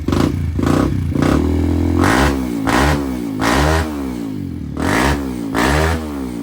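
Kawasaki KLX140 dirt bike with a 22 mm Mikuni carb, cam and exhaust mods, revving loudly up close in repeated rising and falling blips, a clattering engine surging about every second without pause.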